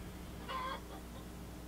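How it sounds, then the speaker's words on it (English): Chickens on a farm cluck in the background, one of them apparently announcing an egg after laying, with a single short, moderately faint call standing over a steady low hum. "Those are chickens in the background. One of them must be laying."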